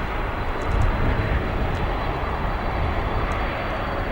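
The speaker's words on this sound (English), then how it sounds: "Here comes our Cape Air Cessna." A tiny Cape Air Cessna passes at O'Hare, giving a steady broadband engine drone with a brief swell near the start, fairly close and alone with no voices.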